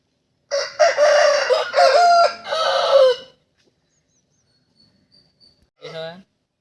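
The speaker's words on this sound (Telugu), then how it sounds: "కోడి పిల్లది ఒకసారి కింద వదులుతాను చూసుకోండి" A young Bhimavaram-breed chicken is released onto the ground and lets out a loud, drawn-out run of harsh calls lasting a few seconds, then falls quiet before one short call near the end.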